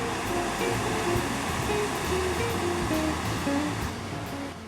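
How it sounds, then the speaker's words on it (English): Ocean waves crash and wash at Fan Shell Beach in Monterey, California, a loud continuous surf roar with rolling swells. "Here's a look at the waves at Fan Shell Beach."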